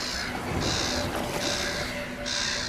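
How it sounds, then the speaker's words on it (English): Crows on an island shore strewn with shipwrecks in a dinosaur survival game caw in repeated harsh bursts over a continuous ambient wash, fairly close and prominent. "Look at all the birds."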